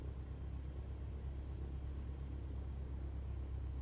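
A Cessna 152 piston engine idling in a flight simulator, a steady low droning rumble with even pulsing, close and unbroken, with no talking.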